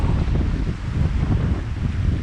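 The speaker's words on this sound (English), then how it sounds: "And it's so windy" Strong wind at a mountain pond buffets the microphone with a steady, loud roar and low rumble, no voices.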